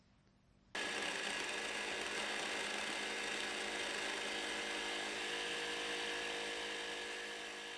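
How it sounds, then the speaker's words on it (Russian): A countertop blender starts abruptly and runs steadily at high speed, whirring loudly as it purées peeled apple with garlic under a closed lid, its pitch holding constant before easing slightly near the end. "закрываем крышкой и перемешиваем при помощи блендера"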